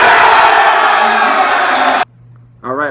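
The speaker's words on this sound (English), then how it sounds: "you guys saw the crowd was so excited" A large crowd at the 2017 NBA Draft cheers and whoops loudly and continuously for about two seconds, then cuts to near silence with a low hum before a single voice begins speaking.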